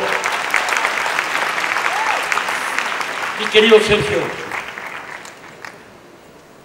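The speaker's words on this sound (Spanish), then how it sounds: "Un aplauso, por favor." An audience at a public debate event breaks into loud, sustained applause that fades out gradually, while someone speaks briefly over the clapping.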